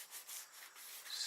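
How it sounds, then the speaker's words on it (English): A Mustang rear spoiler being sanded by hand with 180-grit sandpaper, a brief soft rasping rub in uneven back-and-forth strokes, close and fairly quiet. "sand it out"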